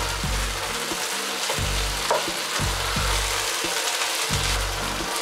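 Pieces of beef for black pepper beef brown in a hot pan, giving a loud, steady, close sizzle that stays constant throughout with only faint clinks.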